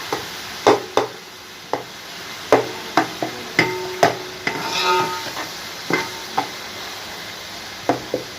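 Rice and spices roasting in a pan for pulao, with repeated sharp scraping and knocking of a spoon against the pan over a soft sizzle, the strokes coming at irregular intervals, close and moderately loud.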